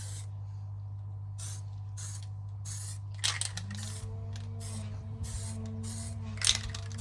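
Spray paint from a rattle can applied to a Harley Benton DIY guitar kit: around a dozen brief hissing bursts in quick rhythm, close, over a steady low background hum, with no talk.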